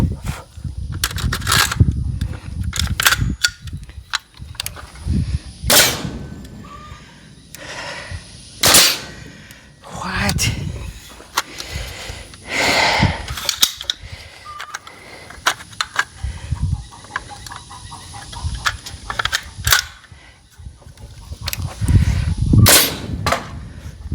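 Pneumatic nail gun fires repeatedly while framing Dutch doors for a horse barn, a sequence of sharp, close bangs at irregular intervals, some in quick clusters, over faint shuffling and handling noise.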